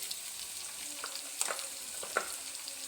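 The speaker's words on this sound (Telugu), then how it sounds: "ఉల్లిగడ్డ పచ్చివాసన అంతా పోయేంత వరకు వేయించుకుందాం" Onions and green chillies frying in a pan for spicy fish pulusu, a soft even sizzle broken by a few light scraping stirs, with no one talking.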